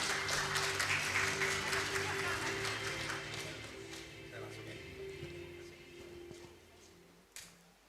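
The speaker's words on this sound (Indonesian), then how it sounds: "Berikan tepuk tangan yang meriah." Audience applause welcoming a guest speaker at a public-communication energy talk on fuel subsidies, a dense burst of clapping at the start that gradually thins and fades, with a low steady hum and some background voices underneath.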